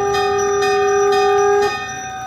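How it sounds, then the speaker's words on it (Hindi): Bell ringing during a Shrimad Bhagavat katha recitation in Alipur, a loud sustained ringing with bright steady tones and a few soft pulses, dropping away near the end, with no voice over it. "उसी समय घंटी बजनी चालू हो गई"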